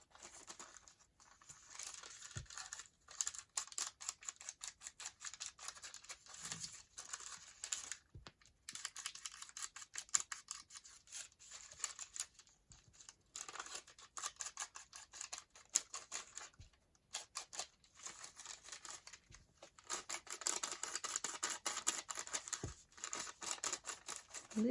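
Paper bags being cut and handled during crafting: close, quiet crinkling, rustling and snipping in irregular bursts with brief pauses, and no talking.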